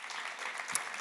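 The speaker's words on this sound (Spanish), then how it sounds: "¿por qué no le damos un fuerte aplauso a nuestro Dios, al que es digno, al que se lo merece todo?" Congregation applauding during a church sermon, a soft, continuous patter of many hands heard from a distance, faint and even, with one brief louder knock near the end.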